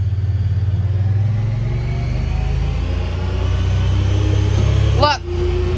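A Honda Pioneer 1000-6 side-by-side drives steadily with a loud, continuous low engine rumble, and a brief rising whine near the end as the engine note shifts.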